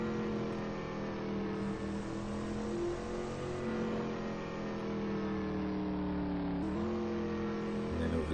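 A V8 race car engine in the Assetto Corsa video game, driven at Sebring International Raceway, holds a steady high-revving drone with harmonic tones that shift slightly as the revs change.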